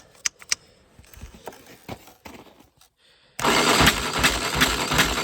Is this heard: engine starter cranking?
yes